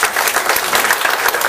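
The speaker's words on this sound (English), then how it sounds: "Let's give him some applause for our statue." An audience at a high school hypnosis show claps steadily in dense, continuous applause for a volunteer posed as a statue, loud and close throughout.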